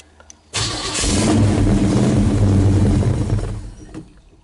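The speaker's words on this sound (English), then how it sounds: "I'm gonna start her up here" A 1969 Chevelle engine is cranked loudly and steadily for about three seconds and then stops without catching. The sound is close and strong, with brief clicks before and after.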